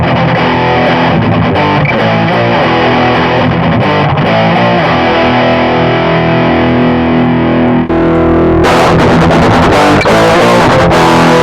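A loud electric guitar through a Valeton Coral Cab plays with heavy fuzzy distortion, sustained buzzing chords that thicken further toward the end.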